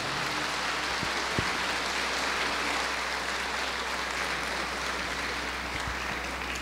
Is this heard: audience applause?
yes